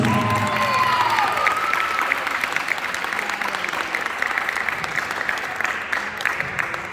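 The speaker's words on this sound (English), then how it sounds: "another round of applause for all of our guard members" An audience at a high school band banquet awards ceremony claps for the color guard members, a long, dense round of applause with a few cheers and whoops early on, gradually thinning.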